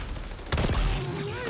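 A sudden burst of gunfire erupts in an online multiplayer shooter, a sharp loud crack followed by a rapid ringing tail of shots that trails off over about a second.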